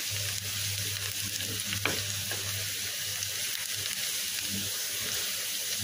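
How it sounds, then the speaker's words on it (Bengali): Chopped onions fry in oil with a steady, dense hiss and sizzle, close and continuous, with one brief clink of a utensil against the pan partway through. "তেলের ভিতরে পেঁয়াজ কুচিগুলো দিয়ে একটু ভেজে নিচ্ছি।"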